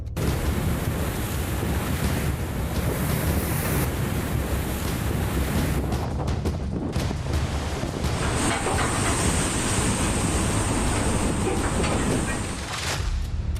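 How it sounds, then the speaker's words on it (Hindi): Heavy ocean surf pounds the coast during Cyclone Yaas off Odisha and West Bengal, a continuous loud roar of crashing waves buffeted by strong wind noise, with no talk. "लहरों के शोर से सहमे राज्य।"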